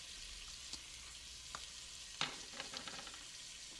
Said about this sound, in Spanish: Lo voy a revolver por un par de minutos sin cubrirlo, igual a temperatura media.